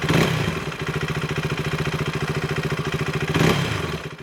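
KTM Duke 390 single-cylinder motorcycle engine in neutral, blipped from idle to around 5,000 RPM and back: loud, close, with a rapid chugging pulse and sharp throttle swells at the start and end.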